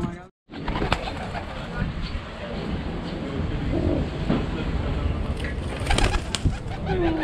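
Pigeons coo in an outdoor street setting in Edirne, Turkey, their soft calls mixed into steady background bustle, traffic rumble and occasional voices nearby.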